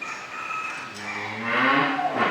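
Cattle on a dairy farm at feeding time low with a drawn-out moo, moderately close and clear, rising and dipping in pitch over a quiet background.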